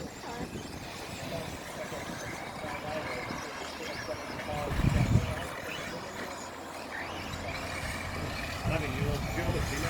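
Tekno SCT410.3 RC short course trucks race at the UK Shortcourse Nationals 2018 final, a steady buzzing motor drone filling the track with a louder surge midway, while people talk and cheer over it.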